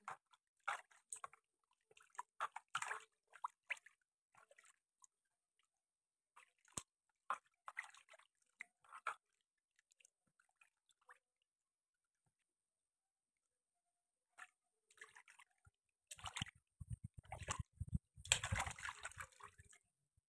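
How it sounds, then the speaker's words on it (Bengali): Fish being washed by hand in water: sparse splashes and drips separated by quiet gaps, building to heavier sloshing and swishing near the end, close by and without talking. "আর পরে মাছগুলো ধুয়ে তুলি লইম।"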